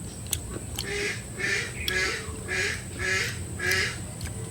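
Ducks quacking in a steady rhythm, about five or six loud calls in a row against a faint outdoor background.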